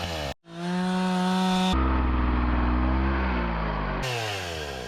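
A chainsaw cuts a series of shallow notches into a log, its engine roaring loud and close with sustained revving that shifts pitch between cuts.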